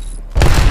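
Grenade blast in Apex Legends, a sudden heavy boom after a brief quiet moment, with a rumbling low-end tail that fills the rest of the moment.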